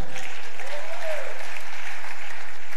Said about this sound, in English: I thought you would clap for God Almighty